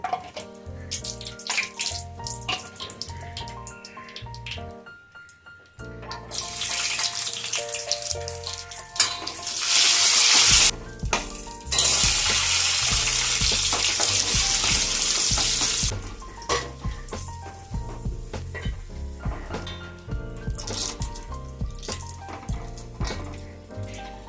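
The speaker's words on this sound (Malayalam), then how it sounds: "ഇതിലേക്ക് നമുക്ക് അണ്ടിപ്പരിപ്പ് മുന്തിരിക്കൊന്ന് വറുത്തെടുക്കണം അതിനായിട്ട് കുറച്ച് നെയ്യ് കൂടി ഇട്ട് കൊടുക്കാം" Cashews and raisins sizzle in hot ghee, the frying swelling into loud bursts of hiss, with tuneful music playing throughout.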